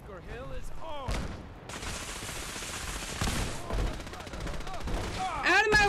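Automated turrets open fire during the Battle of Bunker Hill in Fallout 4, with rapid bursts of gunshots and scattered booms over a steady roar of battle while a voice speaks over it.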